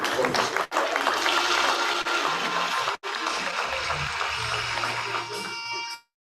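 Audience applause after a brief political address at a science and technology event, a steady broadband wash of clapping that carries on for about six seconds, dipping briefly twice before cutting off.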